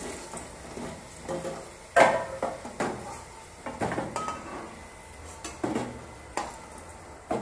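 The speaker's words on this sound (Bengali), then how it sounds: "এখন আলুগুলি মা নামিয়ে নিচ্ছে কড়াই থেকে।" Fried potatoes are scooped out of a kadai with a metal utensil: sharp scraping clinks and knocks against the pan come at irregular intervals over a faint sizzle of hot oil.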